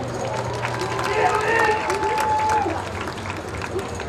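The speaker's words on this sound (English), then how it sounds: "Give a round of applause to all of our award winners." Graduation audience at a high school ceremony applauding award winners, a steady wash of clapping and crowd noise with a murmur of voices throughout.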